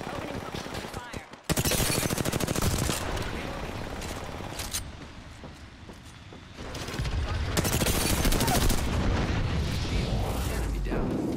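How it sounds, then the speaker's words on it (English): Gunfire in the battle royale game Apex Legends: loud bursts of rapid automatic shots and heavy booms come in waves, with quieter stretches between them and faint game voice lines underneath. "The enemies are shooting at me."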